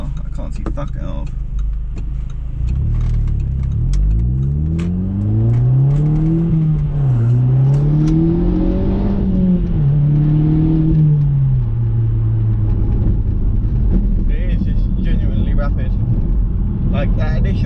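An Audi fitted with a K04 turbo accelerates hard through the gears, its engine note rising in pitch, dropping at each shift and climbing again, loud and close from inside the car with occasional talk.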